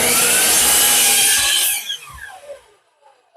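A handsaw cuts freehand through wood for a chicken tractor, loud steady strokes that end abruptly, followed by a fading ring and quiet.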